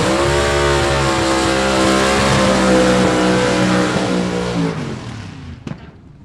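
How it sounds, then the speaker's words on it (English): Robbie Walden's gasser drag car, the Sam Gable Moonshot 2, roars close and loud at a Southeast Gassers Association race. The engine note climbs steadily, then fades as the car pulls away, ending with a brief sharp crack. "Robbie Walden going to be driving the Sam Gable car, the Moonshot 2."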